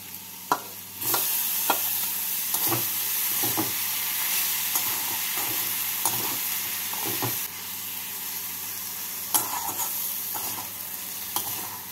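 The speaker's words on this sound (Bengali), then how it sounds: "পনিরটাকে দিয়ে নাড়াচাড়া করে নামিয়ে নেব" Grated paneer filling for cutlets being stirred in a frying pan, a steady hissing sizzle with repeated rhythmic spatula scrapes and clicks, close and fairly loud, with no talk.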